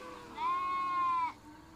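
A sheep from a flock of sheep and goats running in gives a single clear, drawn-out bleat of about a second, fairly close, over quiet background noise.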